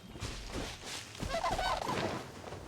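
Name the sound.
bird call in video game Genshin Impact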